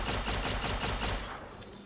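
The Compliance Regulator energy weapon in Fallout: New Vegas fires a rapid, loud burst of repeated electronic shots at Deathclaws, then trails off into quieter game sounds.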